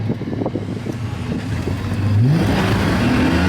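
VS Ute accelerating hard in fourth gear with a 4.11 LSD diff, a loud continuous engine drone whose pitch climbs steadily, with wind noise over it.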